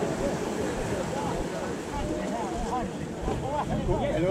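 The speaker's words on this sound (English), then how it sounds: "Our boat is coming in." Tour boat approaching the landing at the Blue Grotto in Malta, a steady engine and water wash under gusting wind noise, with people chatting nearby throughout.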